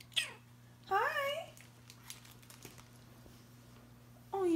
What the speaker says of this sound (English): And you're a black kitty named Salem, so it's your day.